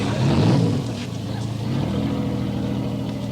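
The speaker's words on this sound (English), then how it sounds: "Start your engine." A motorboat engine, a PT boat in a naval comedy setting, turns over and settles into a low rumbling run, loud and close, with a surge in the first second before a steady idle.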